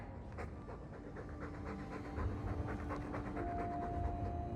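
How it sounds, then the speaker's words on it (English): A dog pants steadily in Dragon Age 2, a quick rhythmic run of breathy huffs close by that continues alone under a low steady hum of ambient noise. "All that noisy dog breath, day in, day out, make him stop."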